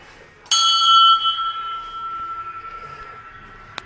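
A bell struck once inside an ancient stone Hindu temple, about a thousand years old, gives a sharp metallic strike followed by a long ringing tone that slowly fades, with a small tap near the end.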